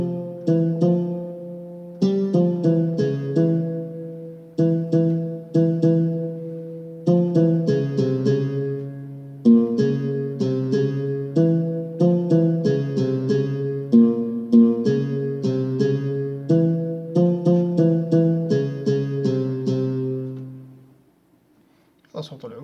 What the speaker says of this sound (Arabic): هذا صوت العود.